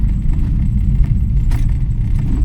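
Low, steady rumble of a car engine heard from inside the cabin as it is driven during a driving lesson, with faint rattles and clicks over the drone and no talk.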